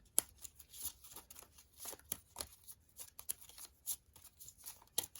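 Tarot cards are shuffled close by in quick, quiet bursts, soft riffling flutters and light card slaps repeating irregularly.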